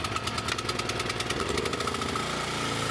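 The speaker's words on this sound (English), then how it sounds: "if you're looking for a mower, I would always recommend making sure your mower has a Kawasaki engine" Lawn mower with a Kawasaki engine running near full throttle just after a pull start, a steady, rapidly pulsing mid-pitched engine drone heard close up with no talk.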